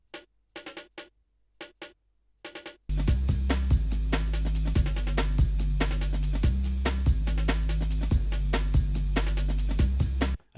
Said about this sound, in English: We've got these extra snares to make it more interesting